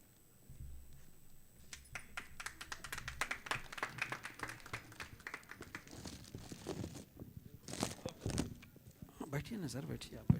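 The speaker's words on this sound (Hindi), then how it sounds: "जोरदार तालियां बजावें।" Scattered clapping breaks out at an achievement award ceremony as an award is received, uneven and patchy at low volume, building into a brief fuller burst, with people talking over it.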